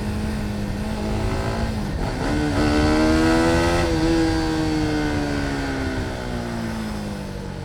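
A motorcycle engine revs hard and close, pitch sweeping up and down through several throttle blips before settling into a loud, steady roar.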